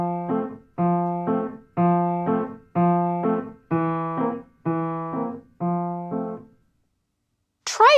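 Piano left hand playing a steady oom-pah bass accompaniment, seven evenly spaced detached chord groups with a low bass note under higher chord tones, then silence and a brief bright sound at the very end.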